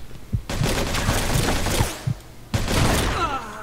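A Thompson submachine gun fires in Mafia II in two loud, close bursts of rapid shots, with sharp single cracks scattered between them amid the noise of a shootout.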